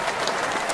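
A group applauding, dense steady clapping heard close and continuous through a brief moment, with no voices over it.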